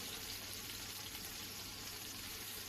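A fish fillet fries in a pan, giving a steady, close hiss of sizzling oil throughout, without speech.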